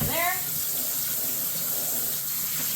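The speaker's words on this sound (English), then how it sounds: "Give them one more good rinse, and then we'll pour those guys into there." Tap water runs steadily into a kitchen sink as cut strawberries are rinsed, a continuous close splashing hiss with a brief clatter at the start.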